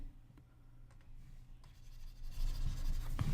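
Marker or pen scratching steadily while writing out a digital logic expression, close and continuous, growing louder toward the end with no talking.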